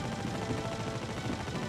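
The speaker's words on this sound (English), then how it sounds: "Some guys are infinitely firing." Sustained, dense gunfire from the Star Citizen video game, rapid overlapping shots rolling continuously and loudly with no pauses, suggesting automatic weapons firing nonstop.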